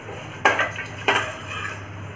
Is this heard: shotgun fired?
no